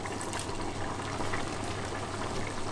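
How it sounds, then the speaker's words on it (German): Young bull meat stew for Zwiebelfleisch simmers in a pot, a steady close bubbling and gurgling that holds evenly throughout without pauses or talking. "So, dann ist das jetzt da schön am Köcheln."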